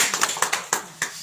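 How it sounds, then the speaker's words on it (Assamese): A handful of sharp, close handclaps in an uneven, sparse rhythm, a few hands clapping for a table-decorating team at a community happiness programme, with no speech. "জোৰছে হাত চাপৰি দিব।"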